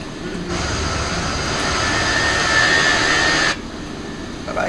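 Airbus A319 jet engines climbing after takeoff from Heathrow, heard from inside the cabin as a steady broadband roar with a faint whine that holds level, then drops back slightly near the end.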